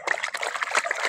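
A small child plays in water, slapping it into a quick, close patter of little splashes and drips.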